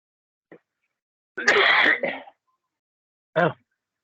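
A short cough, then a harsh, rasping throat clearing, and a final brief cough, each separated by silence.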